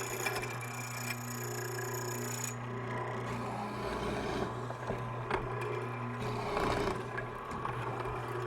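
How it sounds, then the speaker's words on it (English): A dedicated mortiser with a 1/4-inch square chisel cuts mortises in wood. A steady motor hum runs under repeated rasping, grinding plunges into the stock, moderately close and fairly quiet. "I'm using my dedicated mortiser with a 1/4-inch square chisel."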